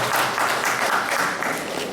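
Audience at a Pongal festival gathering applauds steadily, a dense wash of many hands clapping at once, close and sustained throughout.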